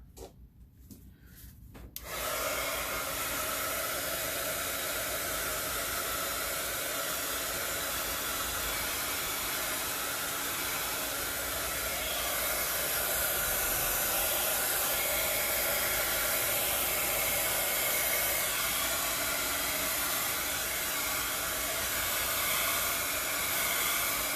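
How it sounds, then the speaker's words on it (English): A powerful heat gun blows a steady, loud rush of hot air over an alcohol ink painting of a dragonfly. It starts after a brief rustle and holds continuously and evenly close to the microphone. "But first, I'm going to give it a quick blow with the heat gun."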